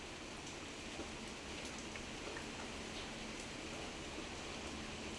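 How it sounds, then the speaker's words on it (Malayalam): Steady rain falls with a dense, even hiss, drops pattering on a surface close by with no pauses. "മഴയാണ് മഴ"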